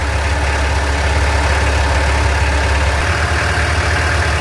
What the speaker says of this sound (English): Oh, the engine's going well.